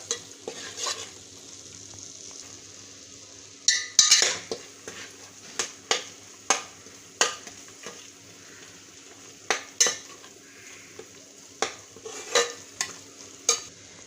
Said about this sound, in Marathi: आता मी हे थोडंसं परतते एक मिनिटभर